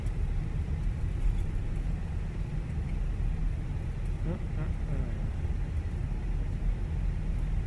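Airbus A320 jet engines at idle reverse thrust during landing rollout in a flight simulator, a steady broad rumbling roar held throughout, with a voice briefly talking over it.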